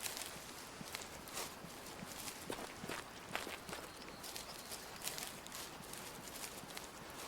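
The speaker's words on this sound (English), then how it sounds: "I should have actually walked forward too, so you can hear the footsteps." Footsteps of a hunter walking through terrain in the video game Way of the Hunter, a quiet irregular series of crunching steps, soft and fairly close, with no talking.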